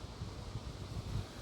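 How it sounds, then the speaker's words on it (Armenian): Strong wind on a cold, rainy, overcast day, a steady low rushing roar with gusts buffeting the microphone, blowing a curtain around. "վարագույրը ինչ է անում քամին"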